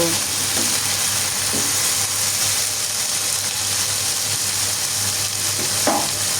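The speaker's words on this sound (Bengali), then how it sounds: "এখন নাড়াচাড়া করব আর ভাজতে থাকব" Malabar spinach frying and being stirred in a pan, a steady close sizzle running throughout with occasional scrapes of a utensil against the pan.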